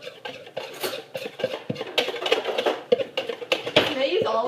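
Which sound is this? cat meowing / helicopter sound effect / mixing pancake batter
mixing pancake batter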